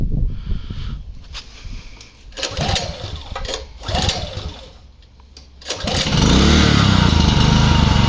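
A ZEGOR DIN-OPEN 4500, a 4.5 kW gas and petrol inverter generator, makes several short sputtering start attempts with pauses between them. It then catches and settles into a loud, steady running drone.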